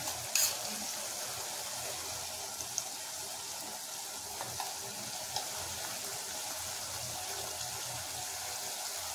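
Cluster beans and potato stir-fry with peanut powder stirring in a pan: a soft, continuous sizzle with faint scraping taps now and then, fairly quiet and without talk.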